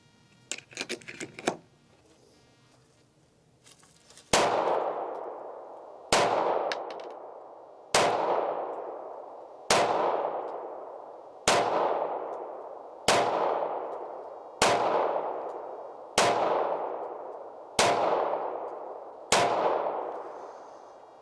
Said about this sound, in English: So let's shoot it again, see if that improves.